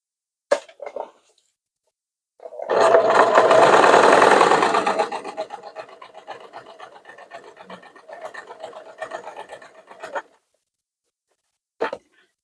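A sewing machine stitches a zip pocket onto a salwar, with one close, sustained burst of fast mechanical whirring that gradually softens before stopping, bracketed by a few small clicks.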